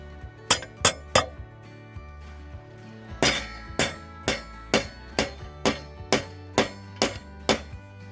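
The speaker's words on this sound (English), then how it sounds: "I'm going to hammer out these little sticky outy bits" Hammer blows drive nail tips back into wooden 2x6 framing for a floor frame: three quick strikes, a pause, then a steady series of about ten sharp, ringing hits, close and loud.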